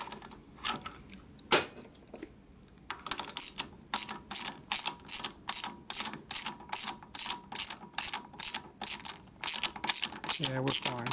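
A socket ratchet clicks in quick, steady bursts while tightening a nut on a lathe center in a workshop, close and fairly loud, following a few scattered knocks and handling sounds.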